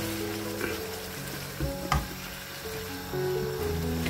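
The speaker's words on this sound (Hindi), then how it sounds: "टमाटर ऐड कर देंगे और टमाटरों को हम थोड़ा घुमा लेंगे ऐसे" Tomatoes sizzle in a hot pan with partly cooked meat for a lauki gosht curry, a steady frying hiss broken by a few scraping stirs and knocks of the spoon.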